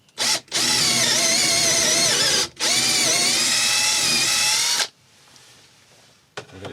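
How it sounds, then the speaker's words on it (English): A power drill bores into an oak bowl blank to mount it on a woodturning lathe's worm screw, giving two long, loud whining bursts separated by a brief pause, then quiet with a short final blip. "So I'm going to drill this so we can get it onto the worm screw."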